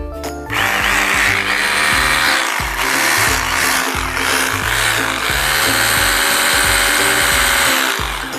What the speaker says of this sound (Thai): สว่านบอสนะครับ ตัวนี้ 620 วัตต์